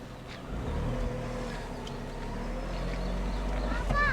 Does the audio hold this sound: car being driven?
yes